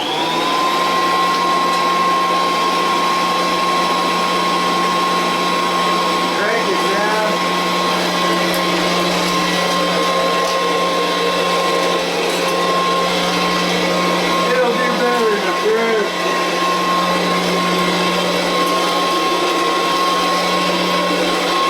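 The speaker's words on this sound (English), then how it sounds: "Vacuum hardwood floor." Vacuum cleaner running steadily on a hardwood floor, a loud continuous motor whine with a sustained tone that holds the same level throughout, close to the listener, with a few faint shifts as the head moves.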